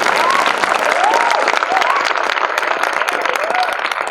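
An audience at a state-level one-act play competition prize ceremony applauds loudly and continuously, a dense wash of many hands clapping, with voices faintly heard within the crowd noise.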